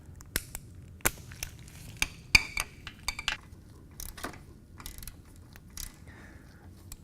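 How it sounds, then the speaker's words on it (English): A ratchet with a 5/8 inch socket on a 3-inch extension loosens the transmission drain plug on a Harley-Davidson, making scattered sharp metallic clicks and clinks at irregular intervals, close, over quiet background. "take your ratchet and your 3-inch extension and your 5/8 inch socket and remove it"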